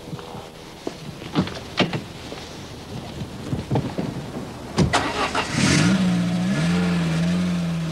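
Peugeot engine shared with the 205 GTI, heard from a car on the move, with clicks and bumps before a steady engine drone rises midway and holds to the end.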